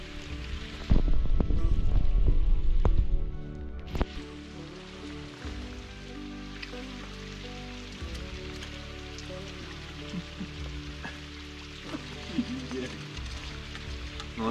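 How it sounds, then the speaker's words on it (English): Steady rain patters on a surface beside a lake in the Boundary Waters wilderness, close and constant, with a heavier rumbling burst near the start and occasional knocks. "waiting out the rain."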